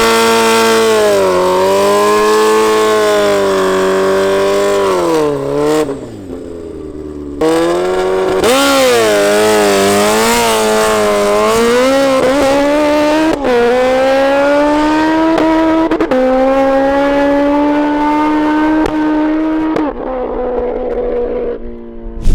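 A drag race launch from a standing start with heavy clutch, among a MotoGP bike, a Suzuki Hayabusa and a Rimac hypercar: a loud, close engine screams up through rising gear pulls with brief drops at shifts, sustained for about twenty seconds.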